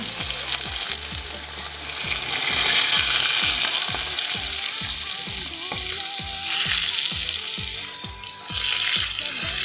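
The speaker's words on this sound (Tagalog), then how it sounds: "Ngayon naman po ay uhulog na natin siya sa ating kumukulong mantika." Tamban fish coated in flour fries fully submerged in hot oil, making a loud, continuous, close-up sizzle with bubbling crackle. Rhythmic background music plays throughout.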